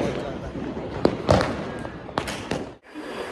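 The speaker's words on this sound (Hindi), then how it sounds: "गाइस बहुत आतिशबाजी हो रही है" Diwali fireworks and firecrackers going off at night, a run of sharp bangs and thuds standing out over a constant crackling, crowded outdoor din, with a quieter lull near the end.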